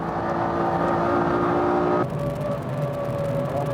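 A Honda NSX and a Civic racing on the SUGO circuit, a loud close engine drone that shifts pitch abruptly midway as a gear changes or the cars swap, no speech.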